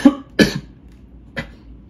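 Three sharp coughs from a single person, close to the mic: two in quick succession, then a third about a second later, with no talking.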